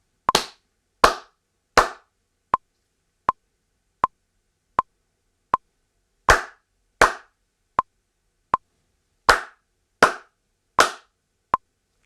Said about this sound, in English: Now, let's try clapping through this example.